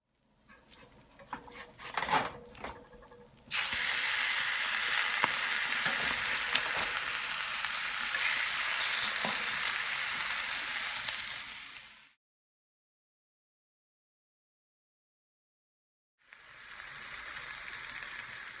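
Loud, steady sizzling of food frying in a cast iron pan, close up, cutting out abruptly and returning after a silent gap.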